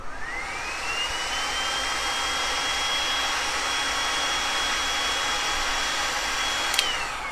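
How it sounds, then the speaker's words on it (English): A handheld heat gun drying paint on an old attache case whirs up to a steady high whine, blowing continuously and loudly at close range before a brief click near the end, with no voices. "I have to reach down and grab my heat gun"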